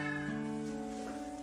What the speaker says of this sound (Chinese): 这个年纪的小猫非常调皮，到处躲跟你玩捉迷藏